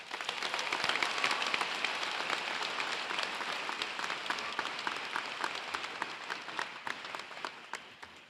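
Sustained applause from a large audience at the Warren Township High School 2022 commencement ceremony, a dense, steady wash of many hands clapping that swells early and slowly tapers over about eight seconds.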